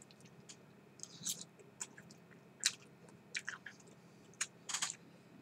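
Someone takes a bite of a dish made with Carolina Reaper chile pepper and chews it close and quietly, with irregular soft crunches and wet chews over a low background hum.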